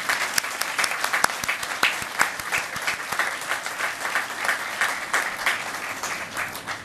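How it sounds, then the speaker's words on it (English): A crowd applauds steadily and densely after the national anthem at a Pentagon LGBTQ+ Pride ceremony. The clapping is sustained and fairly close, with no talking over it. "Please join me in giving a round of applause for Master Sergeant Heil for that wonderful"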